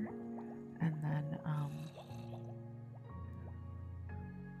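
Dripping and splashing water as Minecraft side streams fall into a main water channel, soft squishy plops under a talking voice.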